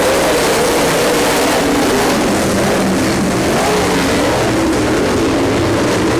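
Dirt track race cars roar together on a green-flag restart out of turn four, a loud, dense engine blare sustained throughout with no voices over it.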